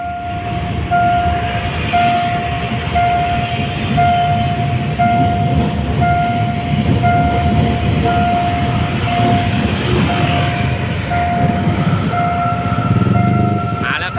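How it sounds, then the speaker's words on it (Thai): A steam locomotive rumbles steadily past nearby, with a loud continuous roar and a sustained whistle-like tone running throughout. "เรามาชมรถไฟดีกว่านะครับ"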